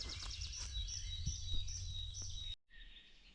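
Songbirds sing in a late-May forest during mushroom picking, with repeated bright chirps and warbling phrases over a low background hum; the song carries steadily and then cuts off abruptly near the end.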